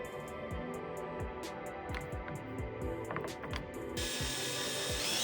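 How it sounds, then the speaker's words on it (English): Carpentry screws driven into clamped wood cross members for a truck bed camper frame, a string of short ratcheting, grinding bursts from a driver, close and steady, with no talking. "I clamp everything in place first so nothing shifts around while I put the screws in."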